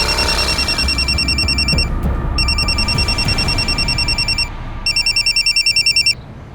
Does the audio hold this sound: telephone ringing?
yes